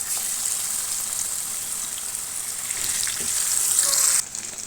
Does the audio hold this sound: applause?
no